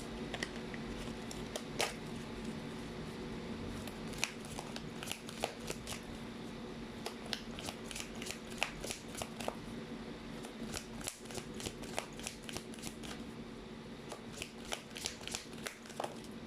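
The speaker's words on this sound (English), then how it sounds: "Let's try to pull up more cards." Tarot cards are shuffled and riffled in quick, close clicking bursts that continue steadily and pick up toward the end, with no talking.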